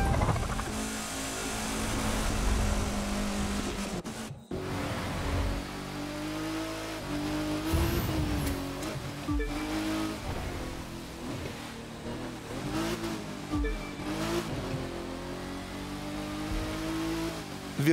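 Race car engines in The Crew 2 roar and rev continuously, gear changes pitching up and down, with a brief cut near the middle; loud and close, no talk.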